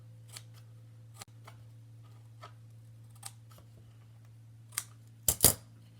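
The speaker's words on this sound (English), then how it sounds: "we're gonna again cut up and make a little tab here" Scissors cutting paper tabs while making a storage piece, heard as faint, sparse snips over a low steady hum, ending in a couple of louder, sharper cuts.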